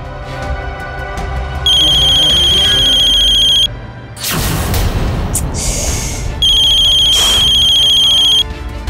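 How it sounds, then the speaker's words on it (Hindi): A telephone rings in a tense Hindi TV drama scene, with loud electronic ringtone bursts cut by a heavy boom between rings. "ये रूपा के घर से फोन है"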